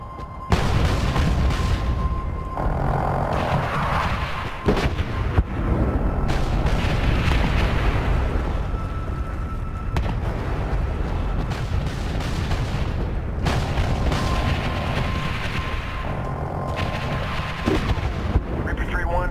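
Heavy airstrike explosions rumble in the Medal of Honor (2010) game, a sustained deep roaring boom that rolls on for the whole stretch with a steady tone running over it, loud and dense throughout.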